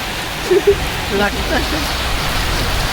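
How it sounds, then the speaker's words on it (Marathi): Heavy rain pours down outdoors by a river in a steady, close hiss, with a couple of brief vocal sounds near the start. "पावसाने जोर घातले इथं"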